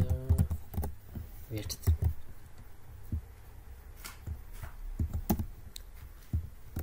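Code is being typed on a computer keyboard in quick irregular bursts of close keystrokes, with a voice speaking briefly over them.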